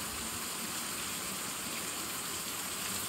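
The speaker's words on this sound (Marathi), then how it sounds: "हा पाऊस बघा फक्त" Steady monsoon rain falls in a Konkan village, a soft, even hiss of drops with no breaks and no voices.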